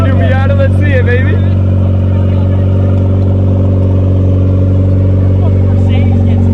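A turbocharged Mazda Miata's engine drones loudly and steadily up close in a low, thick hum, while people talk over it throughout.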